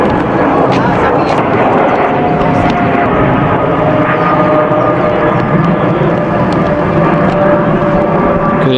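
A fixed-wing airplane flies over near London's airports on a hot day in Epsom, its engine a steady, loud broad roar that holds throughout under outdoor ambience.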